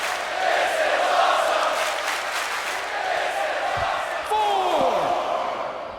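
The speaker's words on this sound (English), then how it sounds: "Crowd is absolutely loving it." A crowd at a live wrestling show cheers and roars continuously, loud and sustained, with whoops and shouts rising near the end.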